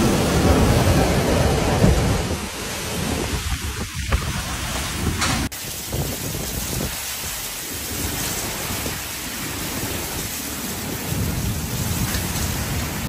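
Heavy rain pours steadily throughout a Gold Coast, Queensland storm, with deep rolling thunder rumbling in the first few seconds, loud and close.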